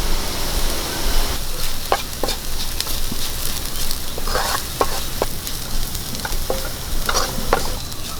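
Dried red chillies fry with onions in a pan for chicken kondattam, a loud steady sizzle broken by scattered sharp crackles and stirring scrapes.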